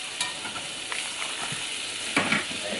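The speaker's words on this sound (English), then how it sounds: "Put butter in your pan. Don't be afraid to use the butter. Like, it's going to smoke" Butter sizzles and hisses steadily in a hot cast iron pan on a stovetop before ribeye steaks go in, a close, continuous frying crackle with occasional sharper pops and stirring sounds.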